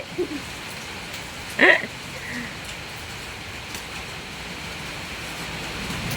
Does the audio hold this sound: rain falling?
yes